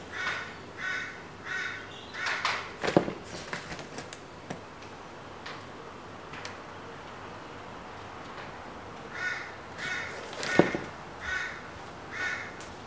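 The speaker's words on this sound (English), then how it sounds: "all these crows have come out and started barking" Several crows caw in bursts of repeated calls, moderately distant, with quieter stretches between the volleys and faint background ambience.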